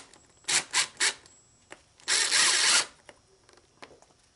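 A power drill driving a screw to fix a BMW VANOS part to a workbench, three short whirring bursts followed by one longer, louder run, close by with brief quiet gaps between.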